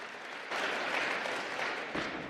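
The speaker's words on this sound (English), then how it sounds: "Please give the region another round of applause." Attendees at a formal African local governance event give a round of applause, quieter at first, then swelling into a full, steady clapping from a large crowd that carries to the end.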